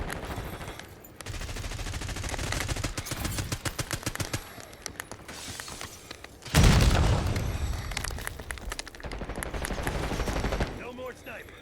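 Video game gunfire heard through a wireless gaming headset: rapid bursts of automatic shots and heavy booms in quick succession, loud and close, mixed with game sound and occasional voices.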